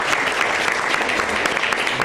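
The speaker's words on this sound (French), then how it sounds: "On peut applaudir le poète" Audience at a French slam poetry competition applauding a poet after the scores are read, a dense, steady wash of many hands clapping that holds at full strength for the whole stretch, with no break and no talk over it.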